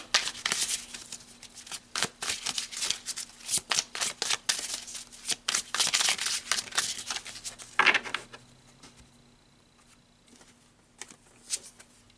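Tarot cards are shuffled close up in crisp, rapid riffling bursts of papery flicks and slaps for several seconds. Quieter, sparser card taps follow toward the end.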